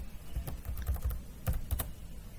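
Keys on a computer keyboard are tapped while a date is entered into an Excel cell, giving a short burst of quick, close, crisp clicks in an uneven rhythm, with no voice over them.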